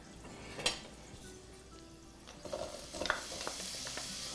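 Onion frying in a pan with thyme, a quiet sizzle that builds as the pieces go in, with a few clinks and stirring scrapes against the pan.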